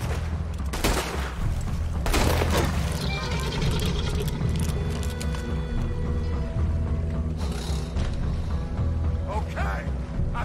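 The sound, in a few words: gunfire in Red Dead Redemption II video game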